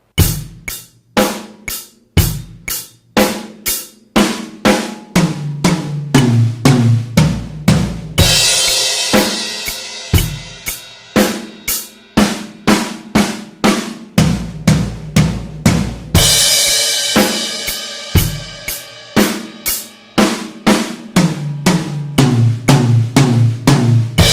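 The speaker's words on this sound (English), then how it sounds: "Now I'm going to show you all 3 variations of the fill accompanied by the 8th note drum beat and also that crash on the 1" A drum kit plays a steady 8th-note beat, broken by fills and loud crash cymbal hits on the downbeat, with no voices over the playing.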